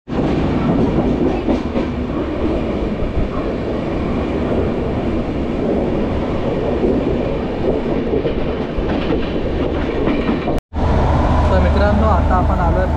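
The Jan Shatabdi Express rolls toward the Konkan region with a continuous heavy rumble and clickety-clack of wheels on rails, with faint voices under it; the sound cuts out for a moment near the end and then resumes just as loud.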